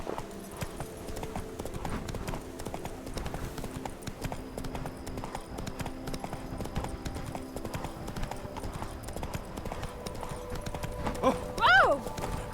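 Roach the horse gallops in The Witcher 3, rapid hoofbeats clip-clopping steadily under game music and a voice, ending in a short whinny near the close.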